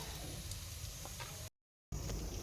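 Panch phoron, the five-spice mix, sizzles in oil already used for frying masoor dal fritters. A steady, soft hiss runs throughout, broken by a brief moment of silence.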